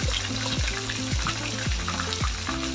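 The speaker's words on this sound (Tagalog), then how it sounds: "Una, prito natin ang daing na katambak or bisugo." Steady crackling sizzle of dried salted bream frying in hot oil, continuous and close, with a faint background hum and occasional spatters.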